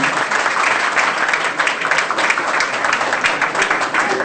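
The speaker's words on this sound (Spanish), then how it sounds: "Fuertes aplausos para ella, por favor." An audience at a university event in Lima applauds loudly and continuously for a few seconds after a city councillor is introduced, the clapping dense and close.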